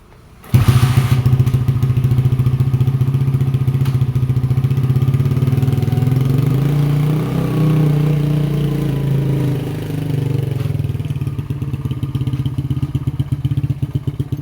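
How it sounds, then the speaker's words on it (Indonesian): An old, battered motorcycle engine starts up and runs close and loud with a steady clattering idle, wavering slightly in pitch before settling, as the rider pulls in to refuel near a traditional market. "kita isi bensin dulu sepeda motor butut kita di sini ya"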